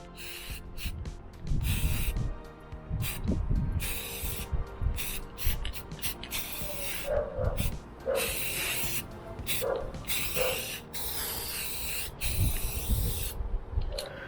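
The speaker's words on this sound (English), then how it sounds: "I'm going to give the top surface a final and third coat of spray" An aerosol spray can lays a third top coat of paint on plastic fender trims from a Yamaha XVS 950 motorcycle outdoors in the sun, a series of hissing bursts of varied length with short pauses between them.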